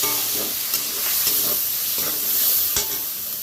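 Water hits a hot pan with ground cumin while vegetarian ghugni is being cooked, giving a steady loud sizzle and hiss with soft periodic scraping from stirring.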